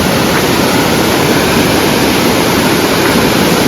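Loud, continuous rushing of flowing water, a dense unbroken roar without pauses or voices.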